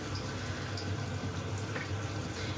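Tap water runs steadily over an Anthurium's potting substrate in a sink, a continuous, moderately close splashing rush with a soft rumble and no voices.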